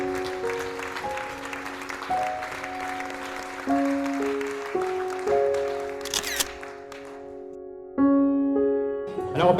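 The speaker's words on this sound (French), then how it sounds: "Là, on peut les applaudir" A crowd applauds the Club des baladeurs équestres at the 2015 volunteers' day in St-Lin-Laurentides, a dense patter of clapping layered under a stepping melody of sustained musical notes.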